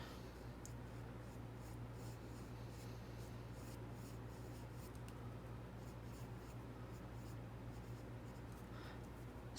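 Pencil sketching on paper, steady soft scratching strokes close up and quiet, continuing without pause under a low background hum.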